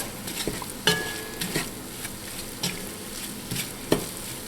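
Flour gravy with swamp rabbit cooking down in a pan: a steady low sizzle runs throughout while a utensil stirs and scrapes the pan in several clear, irregular strokes, and nobody speaks.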